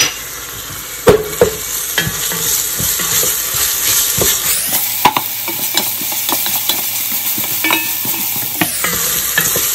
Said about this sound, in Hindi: प्याज थोड़ा सा फ्राई हो गया, अब मैं इसमें डाल दूंगी सेलरी, अदरक लहसुन का पेस्ट